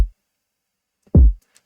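A single trap-beat kick drum pitched up three semitones hits once, a short, punchy, bass-heavy thump that decays quickly and is heard alone.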